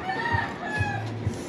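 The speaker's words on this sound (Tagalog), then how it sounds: "Nagpunta na naman dito yung ibon par kasi nakita na naman tayo." A few short, low clucks from a chicken sound close by, spaced about half a second apart, over a faint background hiss.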